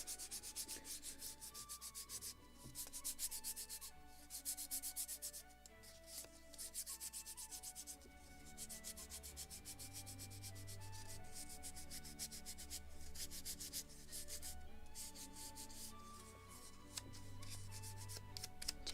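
Sandpaper rubs against the deck of a wooden model gunboat in quick repeated strokes, a raspy scratching that starts and stops, with music playing softly underneath.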